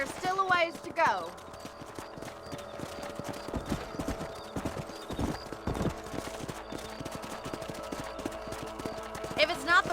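Horse hooves clip-clop steadily at a trot on a ranch trail in the Red Dead Redemption video game, with a whinny near the start and end and a voice talking over the hoofbeats.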